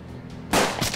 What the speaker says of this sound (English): I can shoot with the pistol.